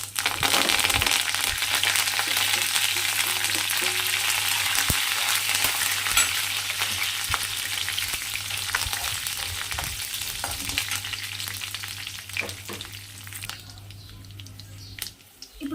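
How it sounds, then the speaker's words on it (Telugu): Curry leaves and dried red chillies fry in hot oil in a pan, giving a loud, steady crackling sizzle with occasional stirring scrapes and clinks throughout, fading slightly toward the end. "ఇప్పుడు కరివేపాకు ఎండుమిర్చి వేసుకుందాం"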